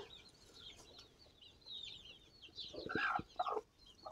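A broody hen sitting on her eggs gives soft, low clucks and murmurs close by, building to a few louder, sharper clucks near the end.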